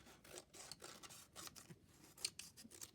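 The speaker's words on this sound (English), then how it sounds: "I'm just going to trim it off by looking at the front" Scissors snip and trim paper on an altered envelope, a string of soft, close cuts and rustles with one sharper snip near the end, no voices.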